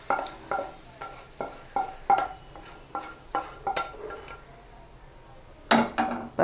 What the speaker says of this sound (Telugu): ఈ పోపుని ముందుగా మనం ప్రిపేర్ చేసుకున్న ఈ పచ్చడిలో వేసేసుకోవాలి